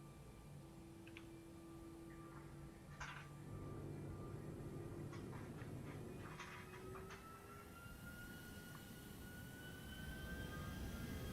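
Jet engines of a ToLiSs A321 spool up for takeoff in the X-Plane 11 simulator, a low, steady roar with thin whining tones that rise gradually, heard alone at a moderate, even level.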